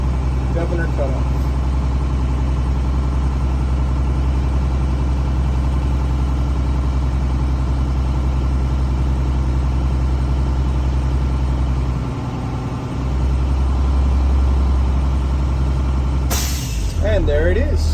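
A truck's diesel engine idles loudly and steadily during an air brake test, a constant deep rumble with a brief dip near the end followed by a sharp hiss of released air.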